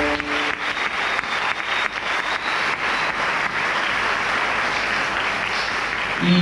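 Theater audience at Teatro Coliseo in Argentina applauds loudly, a thick continuous burst of clapping from a large crowd that stays strong throughout.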